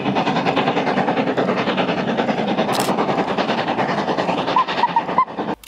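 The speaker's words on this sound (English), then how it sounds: "The Hogwarts Express, which is actually the Jacobite train" The Jacobite steam train, known as the Hogwarts Express, rumbles past at Glenfinnan in the Scottish Highlands, a loud continuous roar of carriages with rapid clattering wheel beats and a brief hiss, close by and with no talk over it.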